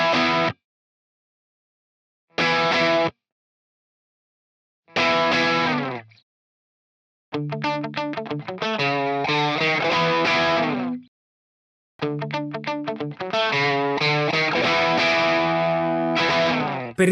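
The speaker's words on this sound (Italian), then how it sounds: "il suono che ho utilizzato è quello classico della simulazione Fender con un bel overdrive spinto ottimo sulla tele" A Fender Telecaster plays a blues lick through an amp simulation with heavily pushed overdrive, short phrases separated by silences, then longer sustained runs of gritty notes and bends.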